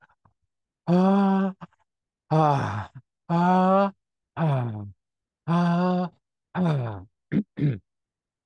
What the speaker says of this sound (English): You're moving a lot of air through your mouth. It's noisy, and you're using diaphragmatic breathing.